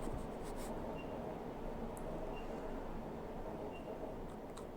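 Pen scratching steadily across paper while a math proof is written out, a continuous close rasp with brief squeaky strokes, no voices over it.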